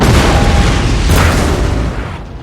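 Artillery cannon fire in Napoleon Total War rolls out as a loud, heavy boom with a long rumbling tail that slowly fades.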